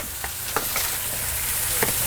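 Bratwursts sizzle on a Gator Pit grill, a steady close crackle with a few louder pops over the dense frying hiss.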